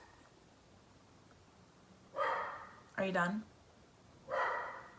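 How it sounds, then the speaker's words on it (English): Two short, loud barks from a nearby dog, separated by a couple of seconds, with a brief spoken question between them. "My dog's barking."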